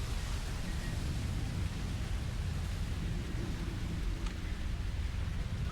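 Steady rain pours throughout a scene in the video game Cold Fear, a dense, even hiss filling the sound continuously at a constant level with a low rumbling undertone and no voices.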